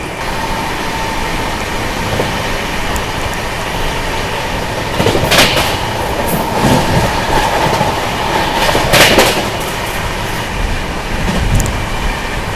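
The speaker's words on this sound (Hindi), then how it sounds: "भाई फिर से आ चुकी है महाराष्ट्र संपर्क क्रांति अपने रूप में" Maharashtra Sampark Kranti Express (12907) running flat out at 130 km/h, a loud constant roar of wheels on rail with rhythmic clickety-clack bursts and a persistent whine, heard from inside the moving train.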